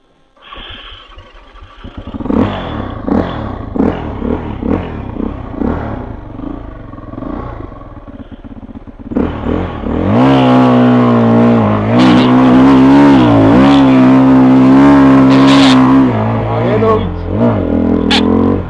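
Dual-sport motorcycles pull away on a trail in Härjedalen, Sweden: engines rev unevenly at first, then rise to a loud, sustained roar with shifting pitch as the bikes ride off nearby, voices talking over the noise.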